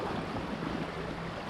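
Rushing river water during a rafting trip near Waynesville, North Carolina, a steady broadband wash of flowing water with wind buffeting the microphone, no voices.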